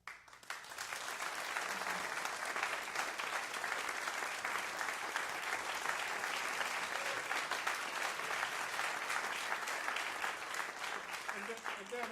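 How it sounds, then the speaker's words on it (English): A church congregation gives a sustained round of applause for a singer, dense steady clapping from many hands lasting the whole stretch, with a few voices mixed in. "But I'd like for you to give a round of applause."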